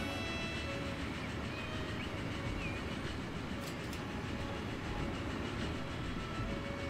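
The Class 9000 train in the video game Transport Fever 2, a steady rumbling roll of wheels and carriages with faint rail squeals, continuous and fairly loud with no speech.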